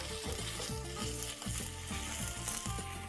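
Patties brown in a hot pan with a steady bright sizzle, broken by repeated rhythmic scrapes and clinks as a spatula flips them, close and alone without talk.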